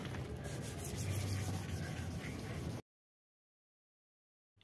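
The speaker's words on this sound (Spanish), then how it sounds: "Ahora le vamos a dar con la lija que es de grano 2000." A car headlight being wet-sanded by hand with 2000 grit sandpaper and water, a steady scratchy rubbing for under three seconds, then silence.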